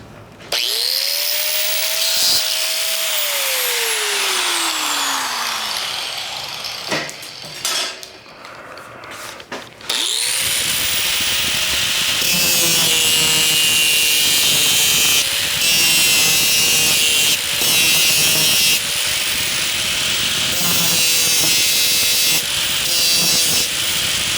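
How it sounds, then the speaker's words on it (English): Metal tail section on a welding project being cut off with a power tool, a loud steady grinding-saw whine with a falling pitch early, a brief pause, then sustained harsh cutting with no talk. "now what I'll do is I'll just cut this portion off"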